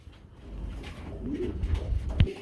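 Lahori pigeons coo softly nearby in low, throaty murmurs that swell and fade, with a brief rustle or flap near the end.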